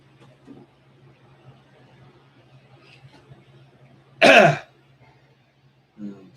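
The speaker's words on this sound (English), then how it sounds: "clearing my throat" A single loud, close throat clearing bursts out in a quiet room, with faint low hum and small soft noises before and after.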